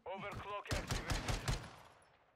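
X12 pistol gunfire in Modern Warfare 2, heard as a rapid string of loud, punchy shots in a steady rhythm, preceded by a brief voice and trailing off into a fading echo.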